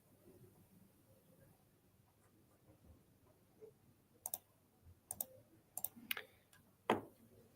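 Several sharp computer mouse clicks, spaced irregularly in the second half, quiet against a low background hum while configuring a cloud migration target.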